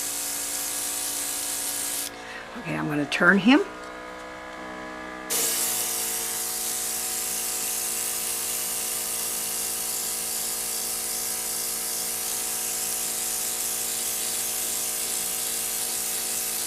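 Airbrush spraying paint onto a broken doll's head, a steady close hiss running through most of the clip, broken by a short pause where a person speaks briefly before the spraying resumes.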